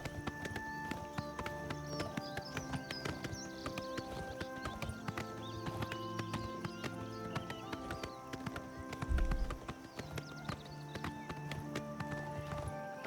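Horse hooves clip-clop steadily while riding in Oblivion Remastered, a continuous even gait with a brief neigh partway through, layered over game ambience.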